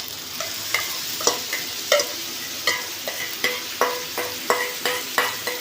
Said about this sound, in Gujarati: આપણું તેલ ગરમ થઈ ગયું છે એટલે આપણે આમાં ડુંગળી એડ કરી દઈશું